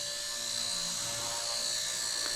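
A Blade S3 Nano miniature remote control helicopter hovers with a steady, high-pitched motor and rotor whine that holds a constant tone throughout.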